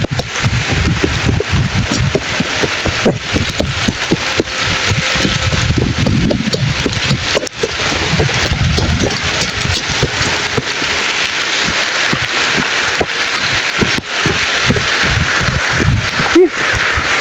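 Steady rain and gusting wind roar outdoors as a storm arrives, a dense broadband wash with buffeting bursts on the microphone and brief sharp knocks, continuous and loud throughout.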